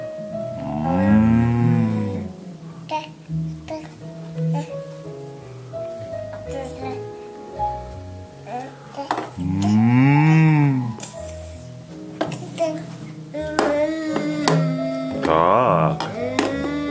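A young child imitates a cow with two long, wavering moos several seconds apart, while an adult speaks between them and other voices chatter nearby.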